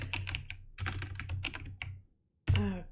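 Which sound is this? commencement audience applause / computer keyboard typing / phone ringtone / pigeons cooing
computer keyboard typing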